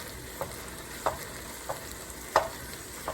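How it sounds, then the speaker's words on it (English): A pound of 80-20 ground meat browning in a pan for slow cook chili gives a steady low sizzle, with a few sharp clicks of a utensil stirring against the pan, and no voices. "Now we're going to go in with the pound of ground meat."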